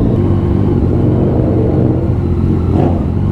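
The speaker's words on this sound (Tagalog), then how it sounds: "Iingay ng mga motor." Motorcycle engines droning and revving on a busy road, a loud continuous low rumble of passing bikes with no break, heard from a rider on a Yamaha MT-09.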